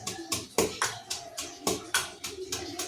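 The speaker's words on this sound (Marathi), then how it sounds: "तर हे थोडंसं कुटून घेऊयात" Green chillies, garlic cloves and fresh coriander are pounded by hand, giving a series of soft, regular thumps about two or three per second, close by and fairly quiet.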